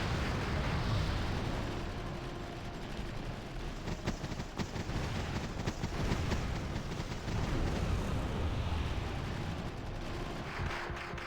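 A distant, muffled firefight in the strategy game Wargame: European Escalation, with scattered gunfire and rumbling explosions rolling on continuously at low level, no voices.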